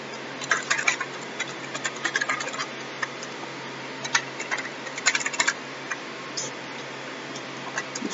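Keys clatter on a computer keyboard while Java code is being typed, in irregular bursts of quick taps separated by short pauses, close and moderately loud over a steady low hum, with no speech.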